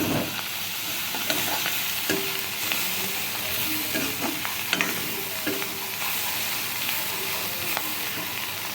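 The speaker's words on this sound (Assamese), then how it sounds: "নিচলা মাছ ভাজি আছোঁ।" Nichla fish frying in a pan gives a steady, loud sizzle throughout, with occasional scraping and stirring sounds close by.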